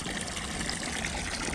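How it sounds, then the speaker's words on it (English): Fresh water pours steadily into a water butt for chickens, a dense, continuous rushing and gushing close by with no talking. "filling my water butts up for my chickens here. Fresh water."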